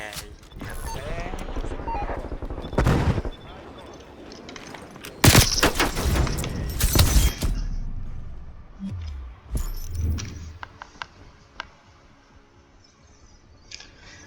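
A Hauer 77 shotgun fires in Call of Duty Cold War multiplayer: a few loud, sharp blasts in clusters, separated by quieter game noise, with a voice talking in between.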